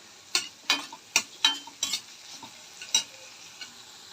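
Crushed ginger and garlic, skins still on, frying in oil in a pan for a mushroom curry, with a soft sizzle broken by about eight sharp spatula scrapes and stirs at an uneven pace.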